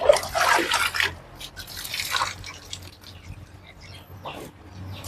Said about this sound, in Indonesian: Kita pancing airnya dari pipa keluaran seperti ini